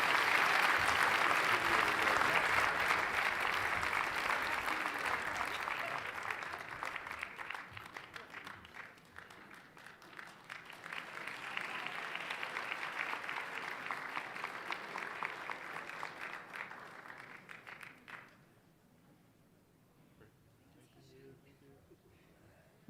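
Audience applause fills a room at a housing nonprofit's 2024 gala, loud and sustained at first, dipping, swelling again, then stopping abruptly before faint room noise.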